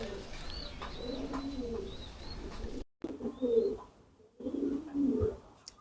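Fancy pigeons of the Beauty Homer type coo in low, repeated throaty bursts at a farm, with a few faint chirps from other birds, the cooing swelling in close clusters after a brief silence.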